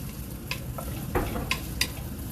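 Strips of bacon frying in a pan while their fat renders, giving a steady low sizzle with a few light scrapes and clicks of stirring, close by and fairly quiet.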